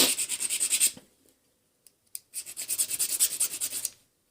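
Abrasive rubbing on the coating of a DSG piston pickup tooth, close up: a quick rhythmic series of rasping strokes, a pause with a couple of faint ticks, then another burst of strokes.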